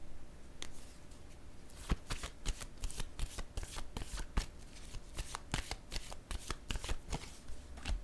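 Tarot cards are handled and laid down on a surface, giving a faint, irregular series of crisp slaps and shuffling rustles.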